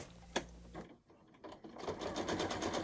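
A domestic sewing machine quilting fabric: a close, rapid mechanical stitching chatter that stops briefly, then starts up again and runs steadily, with a faint click before the pause.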